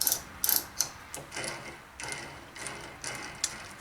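A wrench ratcheting as it tightens a part on a Raleigh Chopper bicycle hub: a run of quick, close clicks in short bursts, fairly quiet, with no talk.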